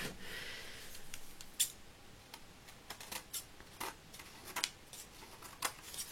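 Scissors trimming decorated paper for a baby-announcement card base, a series of crisp, close snips spaced irregularly across a quiet room with no talking.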